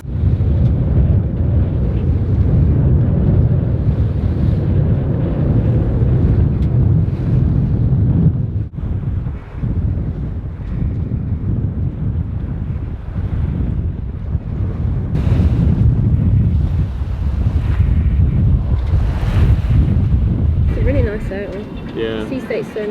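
Wind and ocean waves rush loudly and continuously around a sailing boat at sea, with heavy buffeting against the microphone and a voice talking underneath.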